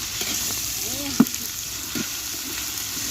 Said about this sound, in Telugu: మా సిస్టర్ అల్లం వేస్తుంది, నేను కలబెడుతున్నానండి